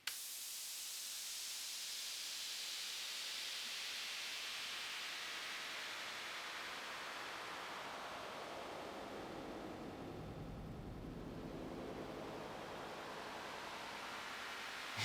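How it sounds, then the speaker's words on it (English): A white noise machine plays a distant ocean waves sound, a soft continuous hiss that slowly swells and recedes like far-off surf, steady and alone with no voices. "It sounds to me like distant waves. Not even the beach, but like a cliff next to the ocean, pretty far away."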